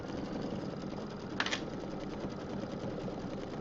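Quilting machine running a stipple pattern across a quilt top, a quiet steady mechanical whir with rapid needle ticking and one brief louder clack partway through, no voices.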